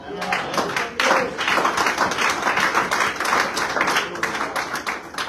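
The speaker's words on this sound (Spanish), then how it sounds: "Denle un aplauso al Rey" A church congregation claps during a sermon, starting with a few separate hand claps that swell into steady, fairly loud applause, then begin thinning toward the end.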